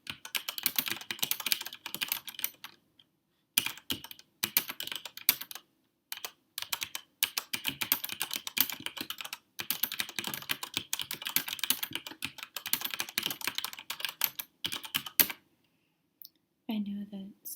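Close typing on a mechanical keyboard runs as fast, dense clicking in bursts separated by short pauses, and a voice speaks softly around the keystrokes.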